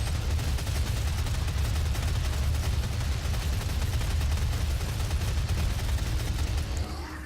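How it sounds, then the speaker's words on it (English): A chain gun in Doom 2016 fires continuously as a dense, roaring stream of rapid shots with heavy low rumble, loud and unbroken for several seconds before tapering slightly at the end. "Actually, I'd rather we chain gun this place."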